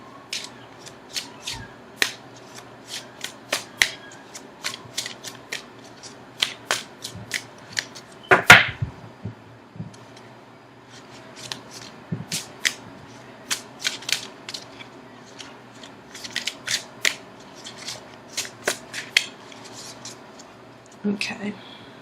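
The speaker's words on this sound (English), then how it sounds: "so now I'm going to shuffle for an outcome card." Tarot cards are shuffled by hand in a long run of soft papery riffles and crisp snaps, close and fairly quiet, with one louder burst partway through.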